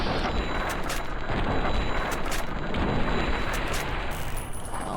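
Gunfire and explosive blasts in the video game Fallout, a dense, loud rumbling barrage of shots that runs without a break throughout.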